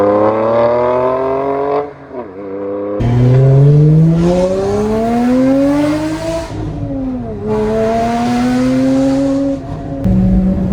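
A loud Porsche Cayman GT4 engine revs hard on a mountain canyon road, climbing through the gears, dropping pitch at each shift before surging again, close and continuous with no voices.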